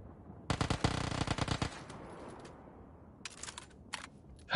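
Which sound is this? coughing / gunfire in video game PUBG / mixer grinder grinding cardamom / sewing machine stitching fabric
gunfire in video game PUBG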